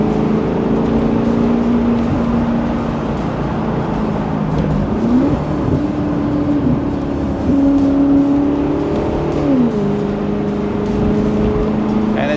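A 2010 Maserati GranTurismo Convertible with a Ferrari V8 cruising at low revs, a loud steady engine drone heard from inside with smooth rises and dips in pitch as it shifts and changes speed.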